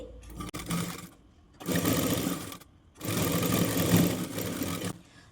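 Sewing machine stitching a sleeve onto fabric: two sustained bursts of close, loud rapid stitching with brief pauses between them, the motor whirring and needle chattering.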